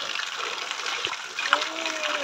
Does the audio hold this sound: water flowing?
yes